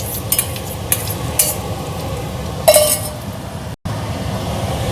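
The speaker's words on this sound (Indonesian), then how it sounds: "Kalau di sini telur dadar minyaknya banyakan ya, biar wangi." An omelette fries in plenty of oil, giving a close, steady sizzle broken by a few spatula scrapes and clinks against the pan.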